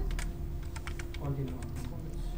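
Keys pressed on a computer keyboard for Ctrl+C and Ctrl+V shortcuts, heard as a handful of quick, light clicks under someone talking.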